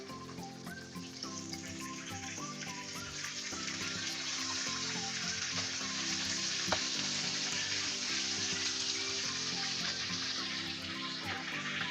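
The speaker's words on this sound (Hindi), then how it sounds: "चलें फिर से इसी तरह सेम प्रोसीजर से फ्राई करते हैं, एक साइड से 3-4 मिनट के लिए और फिर साइड चेंज करेंगे।" Chicken pieces for a spicy fried chicken fry in hot oil, giving a continuous, dense sizzle close by with scattered small pops and light clinks, steady and unbroken with no voices.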